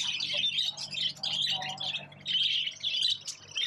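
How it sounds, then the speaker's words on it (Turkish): Caged birds at an exotic animal market in Bangkok chirp and squawk in a busy, overlapping chorus, fairly close and continuous with brief dips. "Evet, şurada kuşlar var."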